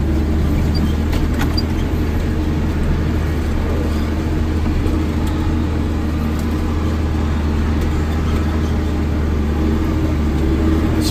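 A vehicle fitted with bigger tires, its rear duals removed, drives along a dirt track, giving a steady, loud engine drone with rumbling tire noise throughout and no voices.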